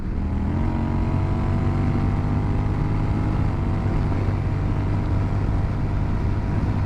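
A Honda Rebel 1100 motorcycle pulls hard toward 100 mph, its engine droning with rising tone under strong, steady wind rush, loud and continuous throughout.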